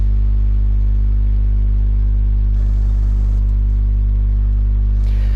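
A tank engine in World of Tanks, an Object 279E driving, gives a loud, steady low droning hum that holds constant, with a brief rougher swell midway and a hiss near the end.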